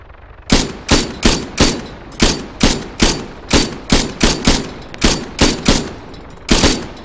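Rifle fire in the Arma 3 King of the Hill multiplayer mode: around fifteen sharp, loud shots in an uneven rhythm, some spaced apart and some in quick pairs, each ending with a short tail.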